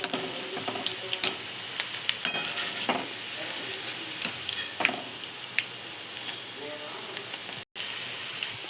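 Appadam pieces frying in hot oil are flipped to the second side, giving a close, busy sizzle with scraping ladle and utensil clinks, and a brief voice under the frying.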